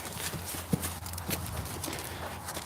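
Horse hooves clip-clop on a trailer floor as horses are unloaded, a faint, irregular run of thuds against steady outdoor background noise.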